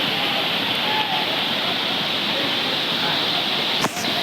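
River water at Amarkantak rushes steadily in a loud, continuous broadband roar that stays even throughout, with a brief faint disturbance near the end.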